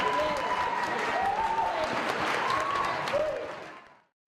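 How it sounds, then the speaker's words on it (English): Audience applause fills a high school band concert as the lights come up, a steady wash of clapping with faint voices and cheers mixed in, then quickly fading out near the end. "Just give one last round of applause as the lights come up."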